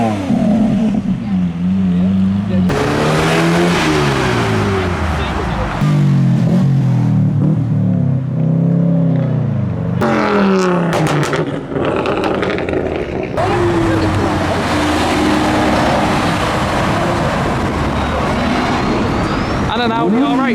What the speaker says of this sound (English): Giving off some revs. We got the Cadbury 12 Caddy and we got the Lamborghini driving past.